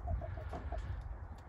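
A purebred dark Cornish rooster clucks in a short run of five soft, quick notes, faint over a low background rumble, with no talk.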